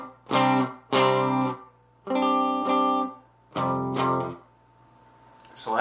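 Electric guitar with its pickup pole pieces raised, three on the neck and three on the bridge pickup, played through the middle pickup position with a funky, effected tone: four separate strummed chord bursts, each ringing about half a second to a second, close and clear.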